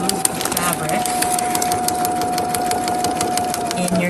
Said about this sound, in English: in your sewing machine as it's moving, and letting the feed dogs pull it